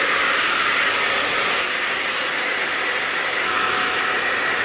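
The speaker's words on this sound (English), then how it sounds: "I've now got my hairdryer. I'm gonna put it on a low heat setting." A handheld hair dryer runs on a low heat setting while drying curly hair, giving a steady, even whooshing blow that holds at one level throughout with no talk.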